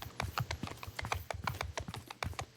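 A horse's hooves clip-clop at a steady trot while riding around a town in the video game Mount and Blade 2 Bannerlord, a quick, even patter of close, crisp hoof strikes.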